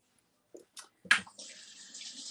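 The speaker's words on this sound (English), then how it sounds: "Rinse my hand off again." After a couple of small clinks, a kitchen tap turns on and runs in a steady, close hiss as hands are rinsed during muffin baking.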